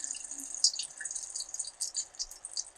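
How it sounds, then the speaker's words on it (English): Water being strained off saved tomato seeds makes a faint, steady trickle and splash, with no voices over it. "So I'm going to strain out a little bit of this water"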